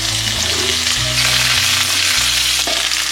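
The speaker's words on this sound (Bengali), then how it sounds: "আলুটা একটু নাড়াচাড়া করে নিয়ে সব সবজিগুলো যে কেটে রেখেছিলাম সব একসাথেই অ্যাড করে দিচ্ছি" Potatoes and chopped vegetables frying and being stirred for chicken pulao, a loud close sizzle running steadily throughout, with soft background music.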